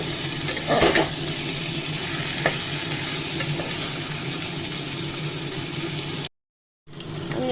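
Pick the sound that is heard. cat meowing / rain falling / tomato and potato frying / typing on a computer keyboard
tomato and potato frying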